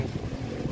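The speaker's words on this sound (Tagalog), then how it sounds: "pinapatulog nitong hangin, ang lakas ng hangin" Strong wind rushes and buffets close by, with a heavy low roar and no break, and no one speaks.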